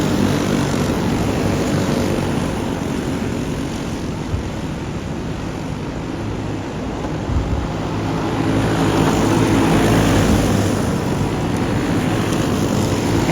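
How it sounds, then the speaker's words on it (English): A racing go-kart engine drones steadily from a kart just behind, a continuous loud buzzing roar that swells slightly toward the end, with wind and engine noise blended together and no talking. "right now I could hear that white cart behind me, like I could hear his motor"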